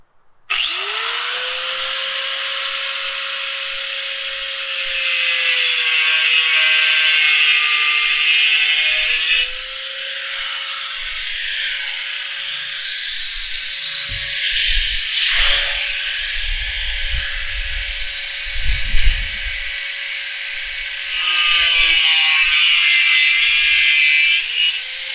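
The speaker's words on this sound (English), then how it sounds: "I'm just going to grind on those marks" An angle grinder cuts into the metal of a Weber Go Anywhere grill, a loud, sustained whining screech that steadies in pitch, pauses twice, and resumes, with scraping and clunking during the gap.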